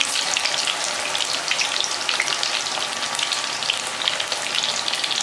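Onion pakoda bhajiya fry in hot oil, a dense, even sizzle with fine crackling bubbles running steadily and close throughout, with no voices.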